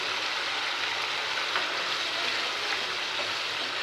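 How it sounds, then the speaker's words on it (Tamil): Tamarind paste for temple-style puliyodharai frying in oil, a dense, steady sizzle and bubbling crackle that stays close and even throughout, with no voices. "இப்போ வந்து இந்த புளி வந்து நல்லா இந்த எண்ணெயிலேயே வெந்து சுண்டி வரட்டும்"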